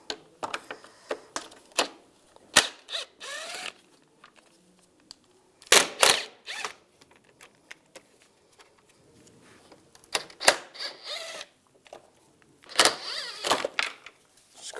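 A T30 socket backs screws out of a 1999-2005 Volkswagen Jetta during radiator removal, giving sharp ratcheting clicks and brief metallic rattles in scattered bursts between quiet gaps, close up.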